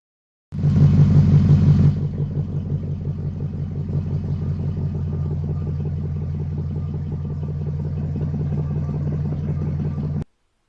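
Car engine with a 4.7-litre V8 and aggressive cams idling with a lumpy, loping rhythm, loud and close, steady throughout after a brief louder start.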